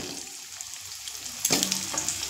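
White and red potatoes go into a pan of hot oil with fried panch phoron spices. A quiet low sizzle jumps to a loud, crackling fry as they drop in, then settles into steady spitting.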